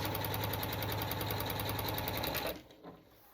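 A sewing machine runs fast in a steady rapid rhythm while stitching a straight fabric seam for a butterfly, then stops abruptly near the end, close and clear.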